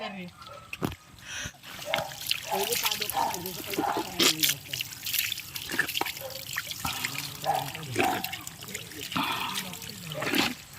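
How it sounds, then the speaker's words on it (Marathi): Clean, naturally cold stream water runs from a pipeline in the Konkan countryside, trickling and splashing steadily close by while people talk over it. "जे व्हाळ असते ना व्हाळ स्वच्छ जे वाहतं पाणी असतं त्याला पाईपलाईन जोडली आहे"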